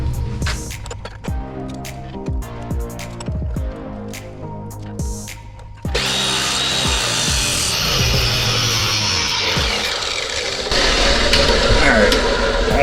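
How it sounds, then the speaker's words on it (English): During rear-end work on a 1981 Monte Carlo, a chop saw first winds up with a rising tonal whine, then bites into the metal part with a loud, harsh, sustained grinding roar that swells further near the end. "I'm gonna put this in the chop box."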